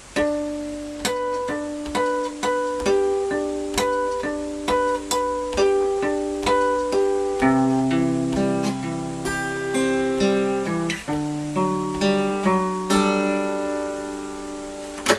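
A guitar plays the intro and verse of a song slowly, with picked harmonics and chords in a steady, evenly spaced rhythm of ringing plucked notes, clear and unaccompanied.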